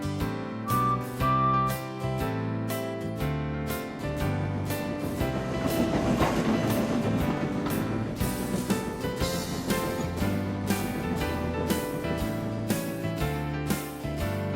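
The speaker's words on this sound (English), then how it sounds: "They pulled and pushed the heavy train up the hill and away on their journey" A steam train pulled and pushed up a hill rumbles steadily with rhythmic clattering and a dense layer of tonal music over it, loud and continuous throughout.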